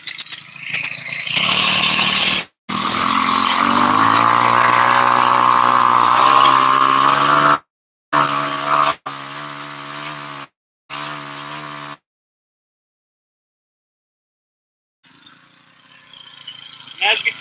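Engine-powered garden cultivator digging into soil, a loud steady motor drone with harmonic whine that revs and cuts out several times, then stops near the end before faint background noise returns.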